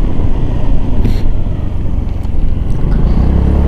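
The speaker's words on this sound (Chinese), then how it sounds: "像我现在如果油门到底加速到路口，好，我要做个刹车" A Honda Forza 300 scooter accelerates hard at full throttle and then brakes, heard as a steady loud engine and road rumble with wind buffeting throughout, close to the rider.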